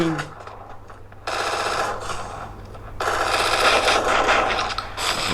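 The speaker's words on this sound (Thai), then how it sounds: "น้องมงครก็ยิงกระจายครับ" Automatic gunfire sprays in long bursts in the Free Fire video game, loud dense rattling that starts, pauses briefly, then resumes, with a faint voice underneath.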